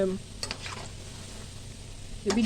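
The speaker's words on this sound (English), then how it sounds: "So we keep frying and turning." Chin chin dough fries quietly in hot oil with a soft, steady sizzle and a few faint stirring scrapes.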